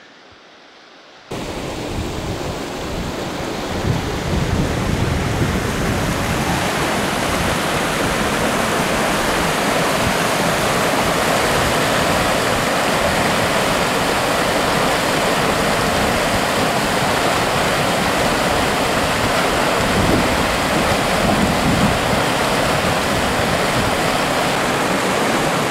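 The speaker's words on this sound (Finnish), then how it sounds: "Vesi virtaa tästä" River water rushes over rock rapids between granite outcrops in a wilderness setting, a loud, steady, broadband roar that starts abruptly after a quiet second and holds unchanged throughout, with no talking.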